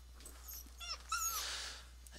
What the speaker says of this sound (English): you can probably hear the dogs there, can't you?